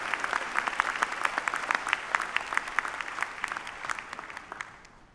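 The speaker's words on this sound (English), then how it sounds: "join me in applauding these outstanding students" Steady applause from a crowd at a university graduate commencement ceremony, dense clapping that fades gradually toward the end, with no talking over it.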